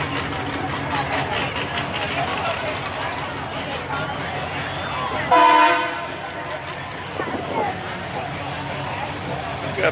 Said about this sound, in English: Got the train horn popping out here.